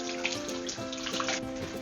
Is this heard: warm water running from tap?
yes